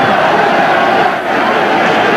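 A loud, dense wash of crowd noise with whistling at a 1994 rugby match between Neath and South Africa, steady and close throughout.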